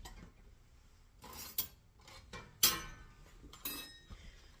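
Metal teaspoon and cutlery clinking in a kitchen drawer or sink while preparing barbecue pork back ribs, a few sharp scattered clinks and taps over quiet background, close by.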